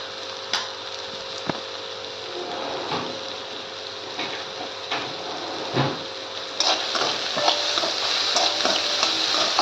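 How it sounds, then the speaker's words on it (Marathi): Cauliflower and potato sabzi cooking with softened tomato in a pan, a steady close sizzle broken by intermittent scraping and stirring knocks of a spoon against the pan, with no talking. "टोमॅटो चांगला मऊसर परतून घेतलेला आहे."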